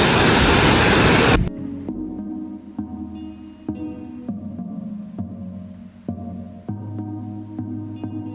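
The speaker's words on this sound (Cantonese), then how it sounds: "好大個瀑布啊！ 仲有啲水氣噴上嚟添。" A large waterfall in Norway roars loud and close as a broad wall of rushing water, then drops away abruptly. Quieter ambience with faint tonal sounds follows.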